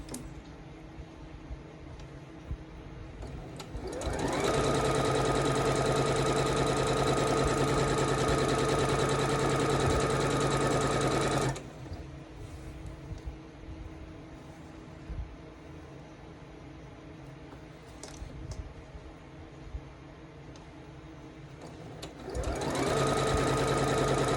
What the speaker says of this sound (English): we're sewing from here to here this time.